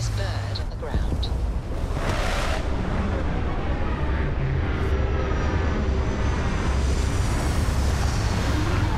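A spaceship's engines roaring during landing in the video game Starfield, a loud sustained rumbling blast with a sharp burst near the start, holding steady and heavy throughout.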